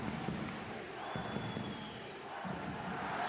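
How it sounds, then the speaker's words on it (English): Home crowd at a EuroCup basketball quarterfinal, ALBA vs. Unicaja, producing a steady, dense roar of many voices that swells slightly and stays loud throughout, with faint court sounds mixed in. "the home crowd are going to take some credit for that, because their noise is making life very difficult indeed"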